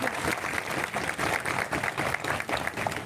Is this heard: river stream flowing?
no